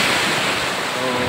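Surf and wind at the seaside make a continuous, loud, broadband roar with no distinct breaks, heard up close.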